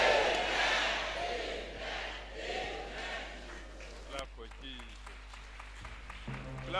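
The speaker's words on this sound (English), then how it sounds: "Clap for Jesus." Church congregation at a revival service claps and cheers together, loud at first and then thinning out over several seconds, with voices calling out in the crowd.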